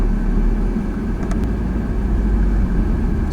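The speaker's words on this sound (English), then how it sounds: "we're going to drive around the mall a little bit and take a look" A car drives around South Point Mall, heard from inside as a steady low engine and road rumble with no distinct events.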